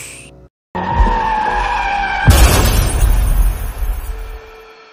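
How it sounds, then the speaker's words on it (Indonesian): In a film sound effect, tires screech loudly as a car skids, then a truck slams into it with a sudden booming crash and rumbling debris that fades out. "Tiba-tiba, sang istri ditabrak truk oleh musuh Rocky hingga tewas"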